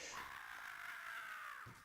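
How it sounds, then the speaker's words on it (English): A single drawn-out bird scream from the arcade beat 'em up Metamorphic Force, a harsh raspy cry that holds for well over a second before fading, heard alone and fairly close. "That bird scream."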